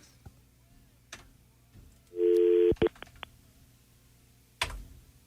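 A phone call goes straight to voicemail: a short, steady electronic tone, then a few quick beeps, heard in a quiet room with a few faint clicks and knocks around them.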